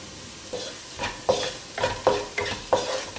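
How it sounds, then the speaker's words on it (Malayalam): Chilli flakes sizzle in hot oil in a pan while being stirred, with a steady frying hiss broken by several scraping stir strokes at an uneven rhythm, close and fairly loud, with no voices. "ഇതിലേക്ക് നമുക്ക് നമ്മൾ എടുത്തു വെച്ചിരിക്കുന്ന ചില്ലി ഫ്ലേക്സ് ആഡ് ചെയ്ത് കൊടുക്കാം"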